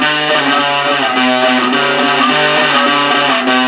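Heavy metal guitar riff played through a distortion pedal into a small cigar box amplifier, loud, saturated and continuous with chugging rhythmic notes and no voices.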